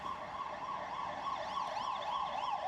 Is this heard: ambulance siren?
yes